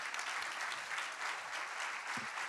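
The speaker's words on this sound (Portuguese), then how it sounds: "Palmas para os nossos convidados." Audience applause at the close of a comedy event, a steady dense patter of many hands clapping throughout at moderate level, with a brief low thump near the end.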